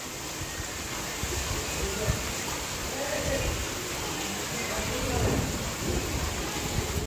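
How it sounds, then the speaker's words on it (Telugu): Steady rain pours down in a constant broadband hiss, with a low rumble underneath and a voice faintly talking. "అందరూ చూడండి ఈ వాన పడుతుంది"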